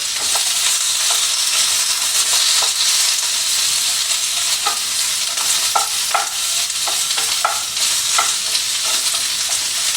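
Thai-style chicken curry with peppers stirred in oil in a frying pan, a steady broadband sizzle with repeated soft scraping strokes of the stirring utensil, close and continuous with no talking.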